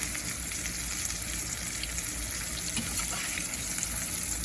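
Onion petals deep-frying in hot oil for homemade bloomin' onion petals, giving a steady, close, dense sizzle and bubbling that runs evenly throughout with no talking.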